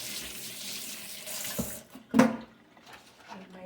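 Hands are rinsed under a running kitchen tap. Water flows steadily at first, then eases off, with one sharp splash or clunk near the end.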